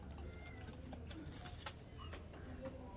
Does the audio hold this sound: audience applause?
no